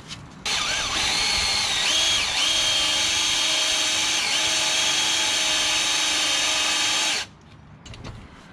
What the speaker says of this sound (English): This aluminium is a bit of a unique thing to drill.